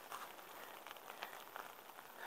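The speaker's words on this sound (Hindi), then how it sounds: "बारिश शुरू हो चुकी है" Faint, steady pattering of rain on a tent at night, a soft continuous hiss with scattered drops, quiet and unbroken throughout.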